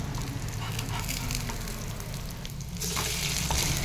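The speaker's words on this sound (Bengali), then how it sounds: "আমি এখানে অল্প তেলে ভাজছি, কারণ অল্প তেল খাওয়া খুবই ভালো" Maggi omelette fritters shallow-fry in a little oil over a low flame, making a dense, continuous sizzle close by that swells slightly louder near the end.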